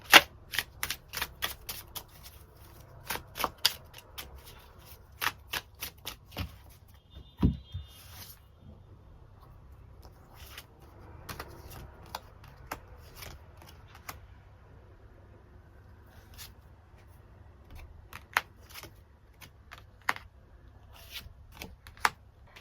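Tarot cards being shuffled and drawn at close range: a quick run of crisp riffling flicks, then a pause and scattered soft snaps and slides of cards, quiet and with no talking.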